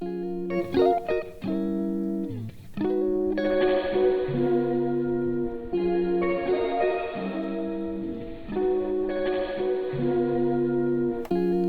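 An Elektron Octatrack plays a synth sequence through a filter and reverb, repeating bright tonal chords and plucked notes with long washy reverb tails blending between hits, loud and steady with no talking.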